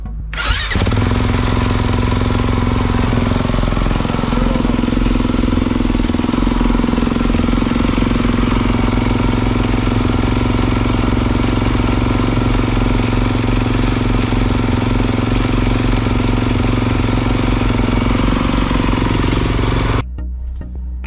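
A 2022 Kawasaki KX450 dirt bike with a hard-starting fault fires up with an abrupt start. Its engine then runs loud and close at a steady, rapid idle for about twenty seconds before cutting off.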